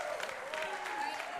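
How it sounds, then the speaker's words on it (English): A powerlifting crowd at an equipped nationals meet claps and cheers after a successful lift, a steady wash of applause with a voice talking over it. "The crowd goes wild."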